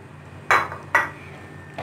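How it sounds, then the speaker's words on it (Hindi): A utensil clinks against a pan while fried vegetables and chicken are mixed, giving three brief metallic taps spaced roughly half a second apart over a quiet background. "इसको अच्छी तरह मिक्स कर लेंगे।"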